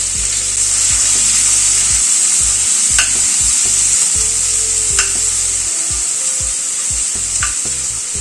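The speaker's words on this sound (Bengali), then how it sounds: "পেঁয়াজটাকে একটু ভেজে নেব" A large onion, sliced lengthwise, fries in a pan of tempered spices over a medium flame, giving a steady, loud sizzle throughout with occasional sharp clicks of stirring.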